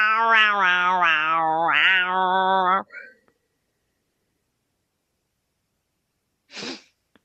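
A voice imitates cats yowling and howling in a long wavering, melodic meow lasting about three seconds, followed by a short sniff-like burst after a silence.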